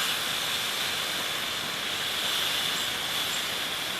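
Lamb browning in a pan on an Anevay Horizon stove gives a steady, even hiss that holds unbroken for the whole stretch, with a faint crackle on top and no voices.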